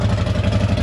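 Side-by-side UTV engine fitted with a GGB Trail series exhaust, idling with a steady low, throbbing rumble and rhythmic pulsing, loud and close, heard alone without talk.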